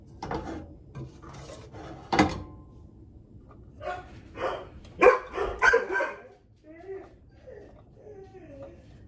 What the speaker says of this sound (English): That's what the dogs are barking at.